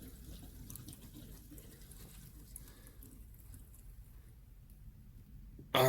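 Water fills a Culligan whole house filter housing as it pressurizes, a faint steady rushing flow that thins out over several seconds before a brief loud burst at the very end.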